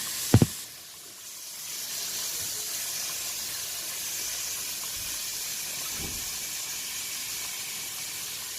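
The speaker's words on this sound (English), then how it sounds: "when you fry your onion and your garlic" Chopped onion and garlic frying in a pan for a pork stew, a steady close sizzle and hiss that keeps going, with a sharp clatter at the start and a soft knock later.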